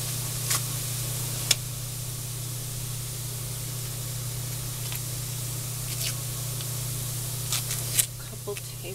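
Butter sizzles steadily in a pan with carrots, a constant hissing spray broken by a few faint ticks and pops, with a low hum underneath.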